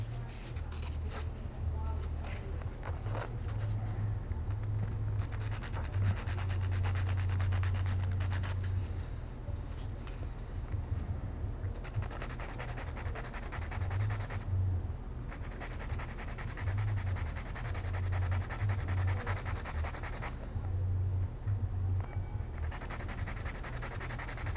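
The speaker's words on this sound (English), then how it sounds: "so we're going to do a bit of sanding." Hand sanding of a part for a 1/10th scale retro Formula 1 RC car kit rasps back and forth in a steady scraping rhythm, close by, pausing briefly now and then, with a low hum beneath.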